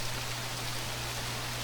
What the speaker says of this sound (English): it's been decades since it rained like this in the desert city of Monsbaiya.